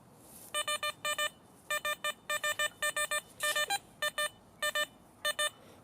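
Garrett Ace Apex metal detector sounding over a 2 euro coin, a quick series of sharp electronic beeps in short clustered bursts with brief gaps, clear and close, no talk.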